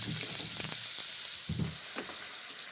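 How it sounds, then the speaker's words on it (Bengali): Pumpkin and chickpeas frying in a pan while being stirred, a steady close sizzle with a few soft scraping strokes of the spoon. "এখন নেড়ে চেড়ে রান্না করে নিচ্ছি, ভেজে নিচ্ছি কুমড়ো ছোলা ভাজা"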